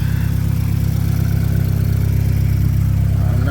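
A Mazdaspeed 6 engine idles loud and close after a power steering cooler upgrade, a smooth, even drone with a light whir over it.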